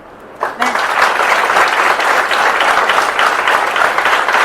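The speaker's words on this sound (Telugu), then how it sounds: "ఆ లీడర్స్ క్లాప్ చేద్దామా" An event audience breaks into loud, sustained applause for the event leaders. The clapping starts abruptly after a brief quiet moment and stays dense and steady throughout.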